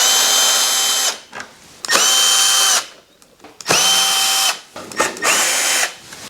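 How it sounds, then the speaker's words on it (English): Power drill backing out the rear screw on a KTM 1290 Super Adventure S side panel: three loud whirring bursts of about a second each, separated by short pauses, with no talking. "we now need to take the rear screw off"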